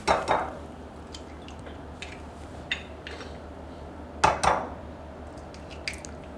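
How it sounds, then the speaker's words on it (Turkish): Three eggs cracked into a bowl: two distinct crack-and-squish sounds a few seconds apart, each followed by a wet drip, with light taps between them and nobody talking. "Üç yumurtayı bir kaseye kırıyorum"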